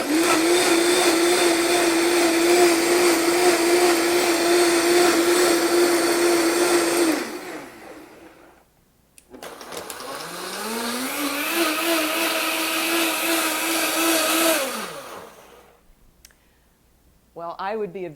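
Two Vitamix blenders, a 500 and a 750, run one after the other with no ice left. Each is a loud, steady motor roar lasting several seconds, with a short pause and a click between them, and the second has a shifting, rising pitch.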